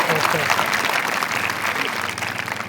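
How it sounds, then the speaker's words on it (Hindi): A dense wash of audience clapping fills the whole stretch, loud and continuous, with some crowd voices mixed in. "ताली बजा के बताएं"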